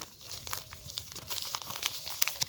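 Paper surprise packets rustle and crinkle as they are shuffled together by hand, a busy, close run of soft papery scrapes and crackles with a few sharper crisp ticks and no talking.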